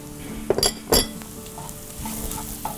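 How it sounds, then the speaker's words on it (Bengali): Ginger-garlic paste hitting frying onions in a pan for butter chicken, giving a sizzle with a couple of loud clinks of a utensil against the pot, then a softer ongoing fry. "আদা রসুন পেস্টটা এখানে দিয়ে দিচ্ছি।"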